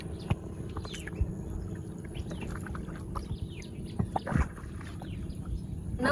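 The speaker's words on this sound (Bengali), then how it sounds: "নৌকা চালানোর অনুভূতি অনেক ভালো।" A small boat is rowed on a river, with soft low watery rumbling and light knocks. Birds chirp and tweet throughout, scattered near and far, with a brief louder splash-like burst near the end.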